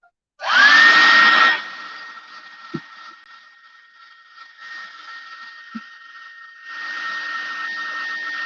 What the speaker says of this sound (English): I'm going to turn this dryer on, so it's going to be kind of loud.